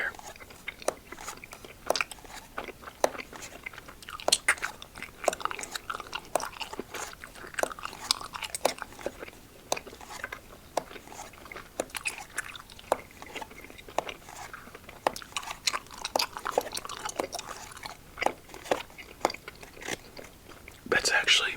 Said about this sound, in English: it's my favorite bubble gum out there